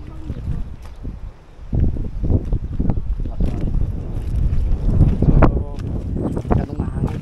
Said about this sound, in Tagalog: So ganong mahangin, hindi kaya.